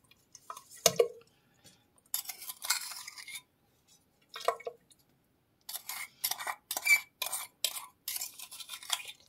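Spoon scraping and clinking in a small container as baking soda, salt and vinegar are mixed for pouring down a sink drain, with sporadic close taps and short stirring bursts between quiet pauses.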